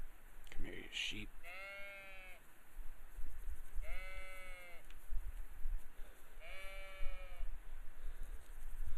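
Sheep in the video game Kingdom Come: Deliverance bleat three times at a steady pace, each a drawn-out wavering cry that sits clearly above a low ambient game background, with a brief thud near the start.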